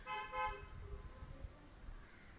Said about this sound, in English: Why do you need to honk so much?